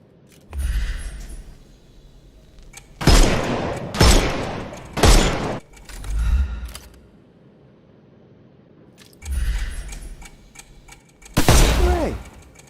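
Gunfire in a Sherlock Holmes PC video game, fired to shoot the armor off enemies: several loud, sharp bursts spaced a few seconds apart, with quieter impact clatter between them and no talking.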